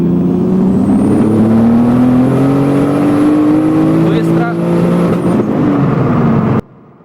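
Turbocharged BMW E36 with an M50B25 engine, around 400 hp, pulls hard from 100 to 150 km/h, its engine note rising steadily through a gear change before cutting off abruptly, heard close from inside the car.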